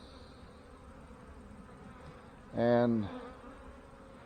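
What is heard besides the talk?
honey bees buzzing at a beehive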